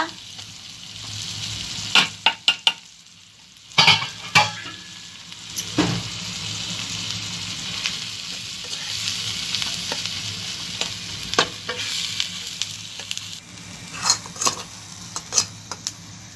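Fish roe frying in a pan with green chillies and garam masala powder gives a steady close sizzle, broken by repeated sharp scrapes and clatters of a spoon stirring against the pan.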